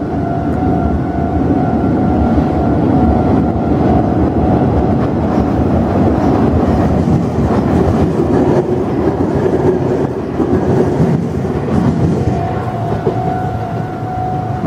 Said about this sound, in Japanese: 岐阜県側から列車来ましたけどね